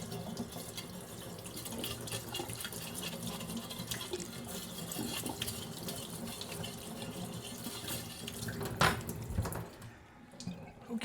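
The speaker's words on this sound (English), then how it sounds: "Plate has been rinsed." Tap water runs steadily into a sink while a plate is rinsed under it, a continuous close splashing hiss with a brief louder splash near the end before the flow cuts off.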